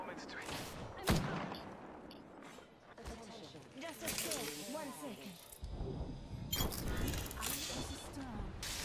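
Apex Legends match with Kraber sniper gunfire: a sharp shot crack near the start, then scattered bursts of weapon fire and impacts mixed through busy game sound, with someone talking over much of it.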